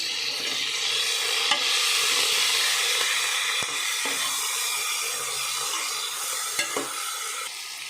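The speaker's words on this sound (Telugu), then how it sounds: "ఇప్పుడు మనం తీసుకున్న టమోటా, కొత్తిమీర, కరివేపాకు వేసుకొని 2 నిమిషాలు మళ్ళీ వేయించుకోవాలి." Brinjal fries in oil with tomato, coriander and curry leaves for a masala curry, a loud close sizzle with repeated scraping and clacking of a spoon stirring the pan.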